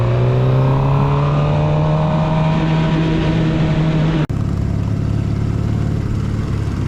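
A motorcycle engine hums steadily close by as the rider cruises in traffic, its pitch slowly rising and falling, with a short sharp click near the middle and no voices.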